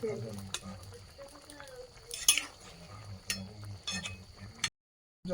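Green chillies fry in a pan, with soft sizzling under occasional stirring clinks and scrapes close by. The sound cuts out near the end.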